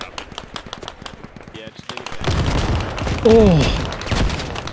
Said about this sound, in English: I think they're dropping mortars on us